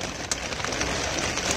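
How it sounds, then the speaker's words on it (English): Heavy rain in a thunderstorm drums loudly and steadily on a van roof, a dense, even hiss of drops with a few sharper hits and no thunder audible. "Rain's so loud we can't hear the thunder."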